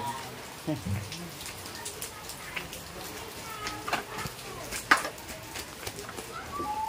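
Rain falls outdoors in a flooded area, a light, uneven patter with scattered drips heard under people speaking.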